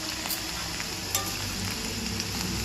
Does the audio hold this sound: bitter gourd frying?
yes